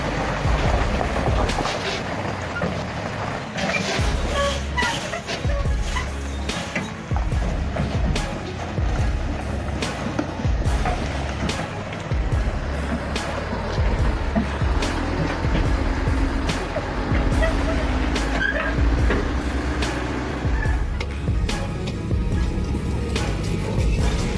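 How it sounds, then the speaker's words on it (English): MAN, Mercedes Actros and Tatra heavy trucks grinding off-road through mud, a continuous loud engine roar with revving surges and scattered knocks and clatter over nearly half a minute. "Man, Actros, and Tatra pushing their off-road limits"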